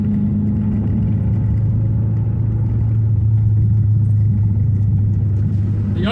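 A Renault Clio RS 172 hot hatch on the road, its engine a steady loud drone with a low rumbling note, settling into overrun as the car coasts, with no talking over it.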